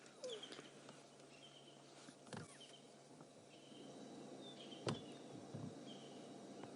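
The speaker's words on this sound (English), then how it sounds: "Much more birdsong this morning than I've heard for the last little while." Faint morning birdsong drifts through the quiet African bush, with scattered thin calls far off. A few soft knocks and rustles break into a low background hush.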